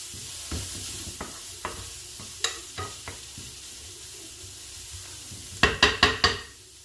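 Vegetables sizzling in oil in a pan for cornbread stuffing, a soft steady fry broken by scattered scraping stirs and a final run of four quick louder clacks of the utensil against the pan.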